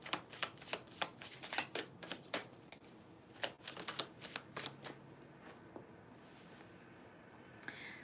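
Tarot cards are shuffled close by in a rapid series of crisp riffling bursts and taps, faint overall and tapering off toward the end.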